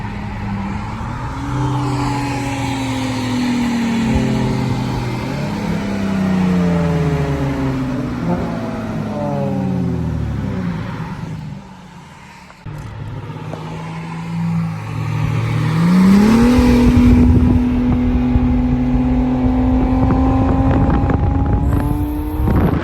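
A V6 car engine rumbles and revs repeatedly, its pitch rising and falling as it accelerates, with a brief dip before climbing again; loud and close.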